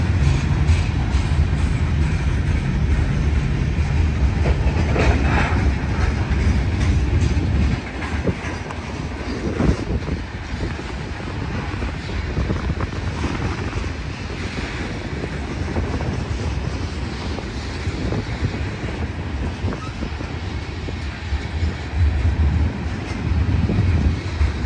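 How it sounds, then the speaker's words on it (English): A Union Pacific freight train rolls along, slack running through the cars as coupler knuckles bang amid steady wheel rumble and clatter, loud and close with no talking. "you're going to hear slack and the banging knuckles"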